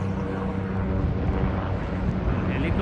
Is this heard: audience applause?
no